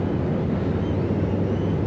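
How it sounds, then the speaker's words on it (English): A race car engine running, heard as a loud, steady, dense rumble with no breaks or revving changes, close and alone without any talk. "Engine running."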